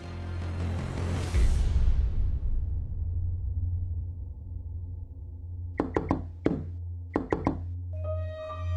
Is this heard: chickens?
no